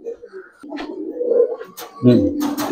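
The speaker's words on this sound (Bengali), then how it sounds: "এখানে যেমন কিছু কবুতর আছে, আরো আছে দেখাচ্ছি" Low cooing from a loft of Giribaz pigeons, close and steady, swelling in the middle and rising to a louder burst of cooing and rustling near the end.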